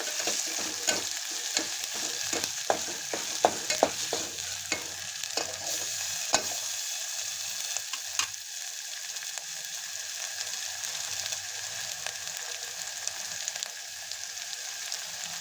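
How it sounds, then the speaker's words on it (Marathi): Eggplant pieces coated in a ground paste of coriander, coconut, ginger and garlic sauté in hot oil, giving a steady close sizzle punctuated by a run of sharp spatula scrapes and taps early on, then settling into quieter frying. "वांग्याला पण तेल उतरूस तोपर्यंत परतून घ्यायचं आहे"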